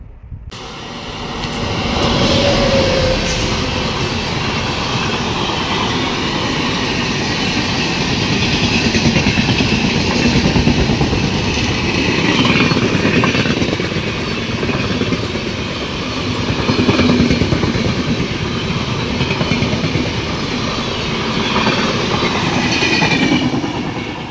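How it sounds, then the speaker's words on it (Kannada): A train bound for Mysuru rumbles steadily past at close range for the whole stretch, with a continuous roar and faint clattering of wheels on rails. "ಫೈನಲಿ ಟ್ರೈನ್ ಕೂಡ ಬರ್ತಾ ಇದೆ ಇದು ಮೈಸೂರು ಕಡೆ ಹೋಗ್ತಾಯಿತ್ತು ಟ್ರೈನು"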